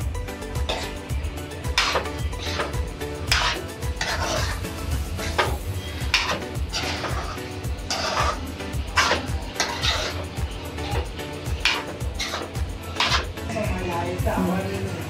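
Marinated prawns being stirred into masala in a pot for a Malvani-style kolambi masala, with a utensil repeatedly scraping and clanking against the metal pot in an irregular rhythm while a person talks.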